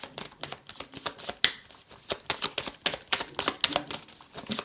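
Tarot cards are riffled and shuffled in quick bursts of crisp, dry flicks and slaps, close and fairly loud, with brief pauses between runs and no talk over them.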